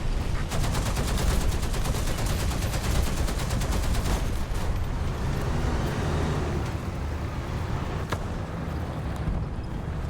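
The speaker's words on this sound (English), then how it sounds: "Artillery strike incoming." Continuous heavy battlefield gunfire and explosions during an artillery strike in War Thunder, dense and loud throughout with repeated sharp reports over a steady rumble.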